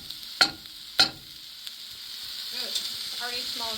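Peppers and vegetables sizzling and frying in a pan, a steady hiss with two sharp clinks of a utensil early on and a voice speaking quietly over the cooking near the end.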